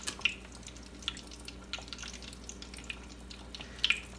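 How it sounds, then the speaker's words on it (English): Oil poured onto washed, dry fish for a fried fish stew, heard as soft scattered drips and light splashes close by, with a faint steady background hum. "I am going to add some oil to my fish"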